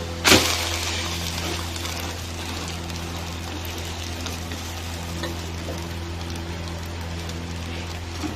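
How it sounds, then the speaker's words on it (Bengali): Two eggs frying together in a pan give a steady, fine sizzle that swells briefly at the start and then holds even throughout, with no talking. "দেখো এখানে দুটো ডিম একসঙ্গে ভেজে নিচ্ছি।"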